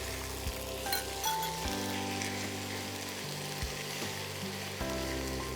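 Mutton with cabbage and peas fries in a pan with a constant close sizzle and crackle, with occasional soft stirring bumps and no talking.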